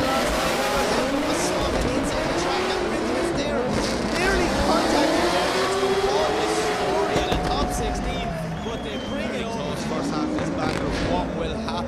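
Drift cars at the Oulu drift event (OIDC 2024) transition side by side for the final switch, engines roaring loud and steady with tire squeal, continuous throughout under a commentator's voice.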